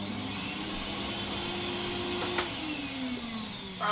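A Hoover Sonix bagless cylinder vacuum cleaner runs close by with a loud, steady whining roar, its pitch dipping slightly near the end.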